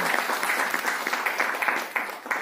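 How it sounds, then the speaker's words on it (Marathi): An audience claps together during a stage performance of a Savitribai Phule monologue, a dense, steady patter of hands that swells and dips in waves over a couple of seconds, with no voices above it. "टाळ्या तर झालंच पाहिजे."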